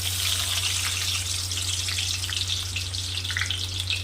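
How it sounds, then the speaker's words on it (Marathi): Chopped onion frying in hot oil for a spicy village-style mutton curry gives a steady, loud, continuous sizzle with bright crackling throughout, and no voices. "आता यामध्ये आपण कांदा ॲड करू"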